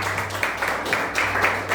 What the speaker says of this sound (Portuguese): Aplauda o Senhor Jesus, aplauda, porque Ele é digno de toda a adoração.